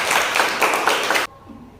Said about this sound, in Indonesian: Tepuk tangan buat Suji.